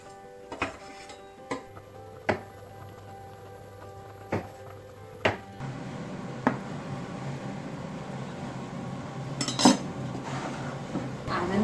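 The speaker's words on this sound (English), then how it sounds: "just chuck that on the top and then replace the lid" Pot lid set back on a pan of cooking vegan bolognese after grated carrots go in, a few separate metallic clinks and taps early on, then a quieter steady simmer with another clatter later.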